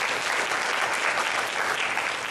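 A room full of people clapping steadily, a thick unbroken wash of applause at even loudness from start to finish.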